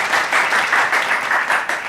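Studio audience bursts into steady applause welcoming guest chef Susan on a cooking show, loud dense clapping filling the short stretch with no talk over it.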